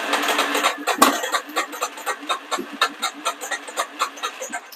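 A neglected Yamaha Warrior 350 ATV engine idles roughly at half choke, its air box popping in quick, uneven bursts with a steady pulsing rhythm, close up and loud.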